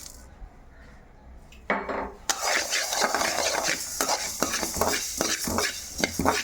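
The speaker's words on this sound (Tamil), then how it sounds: "நல்லா பொன்னரமாக வறுக்கணும் கூட கடுகையும் போட்டுக்கலாம்" Chillies frying with mustard seeds in a pan for chilli pickle, a steady sizzle with repeated scraping and clinking of a spoon stirring against the metal pan, close by.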